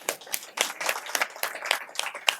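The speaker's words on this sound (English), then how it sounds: "A big round of applause, please." Indoor audience applause at a talk on work-life balance, dense clapping with rhythmic bursts throughout, moderately loud and without speech.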